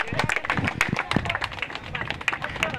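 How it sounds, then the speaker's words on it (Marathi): Applause for young cricket players at a prize distribution, a dense burst of close hand claps that carries on steadily, with voices talking over it. "जोरदार टाळ्या सगळ्या लहान प्लेयरसाठी."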